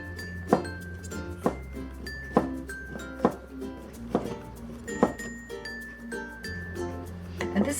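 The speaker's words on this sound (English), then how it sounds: "I'm going to slice it thin and shred it" A knife slicing and shredding barbecue pork on a board, with a series of sharp, clicking knocks at an irregular, unhurried pace over a steady tonal background.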